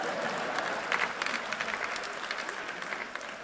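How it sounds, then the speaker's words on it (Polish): Audience applause at a Polish stand-up comedy roast, a steady wash of many hands clapping through the room, with a few louder bursts near the start before it eases slightly. "Wielkie brawa dla tego programu, to jest bardzo dobry program."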